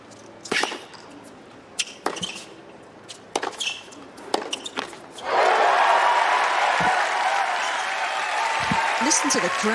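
Tennis rally at the US Open on court 5, Gael Monfils against Roman Safiullin: sharp racket hits and bounces give way to a loud, sustained crowd roar and applause that swells and lingers, with a few scattered shouts.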